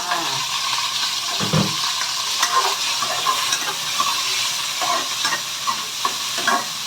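Garlic fries in a pan with a loud, continuous sizzle, broken by repeated scraping stirs and clinks of a spatula, close up with no talking.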